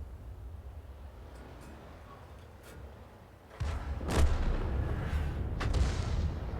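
Artillery from a 105 leFH18B2 self-propelled gun fires in a tank battle game, a sharp loud boom partway through followed by a low rumbling tail and distant shots.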